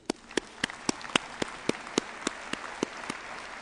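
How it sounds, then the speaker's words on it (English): Applause at the opening ceremony of the COP17 conference, heard as about a dozen sharp, evenly spaced claps at a moderate distance with no talking over them. "Let's give them an applause."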